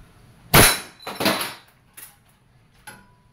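Wingun 708 CO2 airsoft revolver fired in double action: a sharp, loud crack, then a second shot about 0.7 seconds later, followed by softer mechanical clicks.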